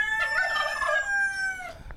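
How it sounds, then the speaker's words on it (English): A rooster crows on a farm that also keeps hens and a turkey, one long clear cock-a-doodle-doo sounding close and loud and lasting nearly two seconds. "we got a turkey, we got some hens and a rooster back here"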